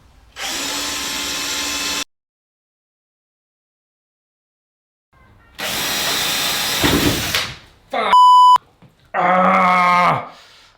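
Several bursts of a whirring power drill, each lasting a couple of seconds with silence between them, plus a short electronic beep near the end.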